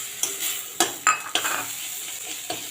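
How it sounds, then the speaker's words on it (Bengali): Ginger garlic paste hitting hot oil with fried onions in a frying pan, a soft sizzle broken by several sharp clinks of a spoon stirring against the pan. "এবারে দিয়ে দিচ্ছি আদা রসুন বাটা।"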